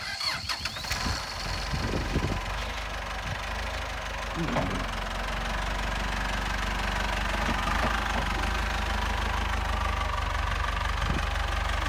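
A 1997 Lull telehandler's John Deere diesel engine idles steadily with a low, rumbling knock, while occasional clanks and faint voices sound in the background.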